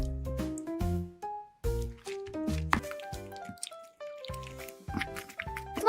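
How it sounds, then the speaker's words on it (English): Slime being squished and pressed down into the bottom of a box gives a series of wet, sticky pops and crackles in quick irregular bursts, close and fairly quiet. "It pressed it down evenly so that the slime filled the bottom of the box."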